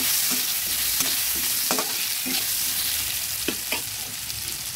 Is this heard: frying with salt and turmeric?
yes